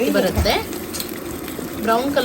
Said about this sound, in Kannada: ಫುಲ್ ಇದರ ಕಲರ್ ಚೇಂಜ್ ಆಗೋವರೆಗೂ ನಾವು ಇದನ್ನು ಫ್ರೈ ಮಾಡೋಣ